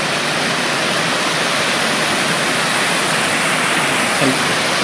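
Big Niagara waterfall on the Appalachian Trail in Maine roars as a loud, dense, unbroken rush of falling water over pink granite, heard up close.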